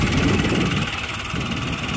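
Citroën C3 Aircross three-cylinder engine idling, a steady rumbling drone with noticeable vibration, close and continuous with a slight dip midway.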